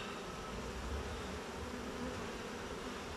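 Honey bees buzz in a dense, continuous drone close by during a beehive inspection, loud and steady without pause.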